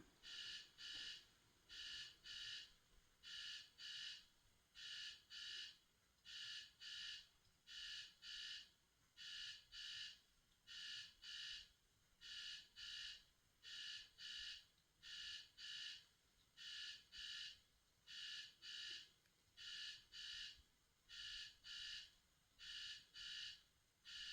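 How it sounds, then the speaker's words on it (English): An alarm beeps in a steady repeating pattern of short bursts grouped in pulses, continuing for the whole stretch at moderate distance with no one speaking. "That alarm is very distracting"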